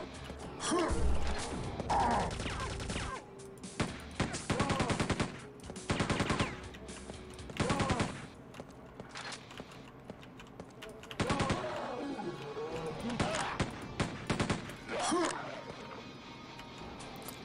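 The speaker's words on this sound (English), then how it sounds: "Is this a better job for the machine gun?" A machine gun in a Quake map fires repeated loud bursts of rapid shots, each lasting about a second, separated by brief pauses and scattered clicks.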